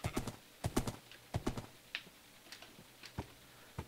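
Horse hooves clip-clopping in the Minecraft video game, an uneven series of sharp, quick clops in clusters, fairly faint and with no talk.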